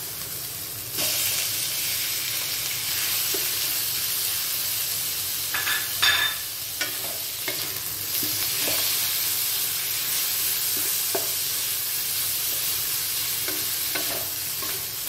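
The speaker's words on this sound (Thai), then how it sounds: "ผัดหมูก่อนค่ะกับแห้งๆผัดให้สุกก่อนค่ะ" Pork belly with chili and garlic stir-frying in a pan, a steady sizzle and hiss throughout, with occasional scrapes and knocks of the spatula against the pan.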